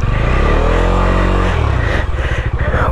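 A dirt bike's engine revs hard and steadily, loud and close, while the bike is stuck in mud on a rough off-road trail, with the engine note dropping and stuttering toward the end.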